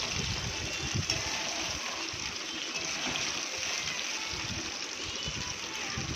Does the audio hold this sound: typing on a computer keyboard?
no